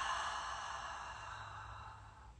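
A single long, deep exhale during a guided breathing exercise, a soft breathy rush that fades gradually over a couple of seconds, heard up close with no talking.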